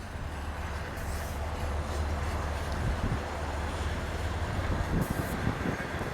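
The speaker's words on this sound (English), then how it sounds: "not a real fast little critter, but it gets her done. An old track mobile." An old Trackmobile railcar mover pushes covered hopper grain cars along the track, a low steady rumble and clatter of slow-rolling cars with faint metallic squeals, heard at moderate distance without voices.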